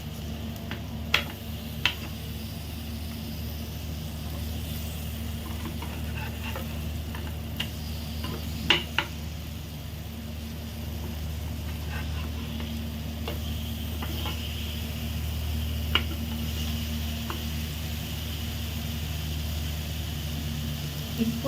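Paneer roasts in a spoonful of oil in a pan over medium gas, giving a steady low sizzle with scattered ticks and pops and occasional utensil taps, no talk.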